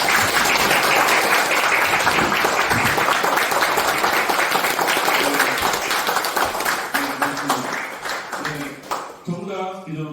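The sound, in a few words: audience applause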